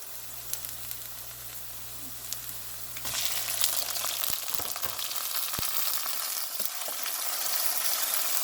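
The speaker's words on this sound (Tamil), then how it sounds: "இப்போ பாருங்க வெங்காயம் வதங்கொண்டு வந்துட்டுது" Onions sizzle and fry in a pan on the stove, a steady crackling hiss that grows fuller partway through, with a few clinks of a utensil stirring, no talking.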